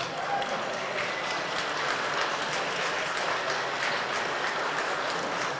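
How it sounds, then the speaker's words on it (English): Steady crowd applause fills a cattle show ring at an expo centre, a dense, even wash of many hands clapping continuously at moderate distance with no clear break. "Give a big round of applause to these young men."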